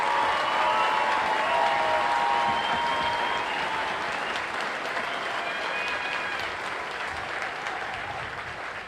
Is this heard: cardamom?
no